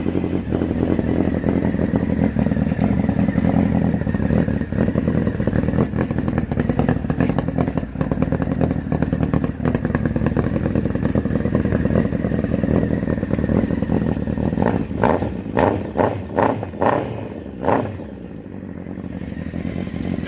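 A Honda CB1300 cafe racer motorcycle engine runs steadily at a loud, close idle, then blips the throttle in a quick series of sharp revs before dropping to a softer idle.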